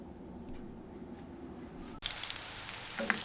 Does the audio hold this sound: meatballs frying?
yes